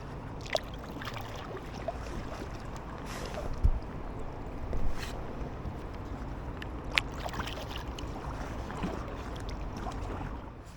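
An inflatable kayak is paddled on a reservoir against wind and current: soft, steady water swishes and occasional splashy strokes under continuous wind rumble, fairly faint and close.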